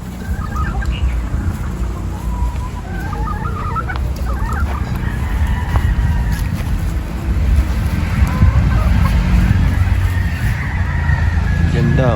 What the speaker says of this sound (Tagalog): Nandito tayo sa range area ng kanilang mga inahin, mga pulit, mga bossing.